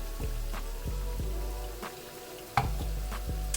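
Onions cooking in a pan give a steady low sizzle under an appliance hum, broken by a few sharp ticks and one louder clack near the end.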